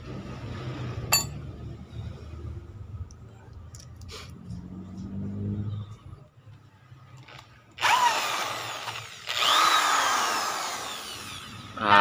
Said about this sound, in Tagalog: binutasan ko po yung lever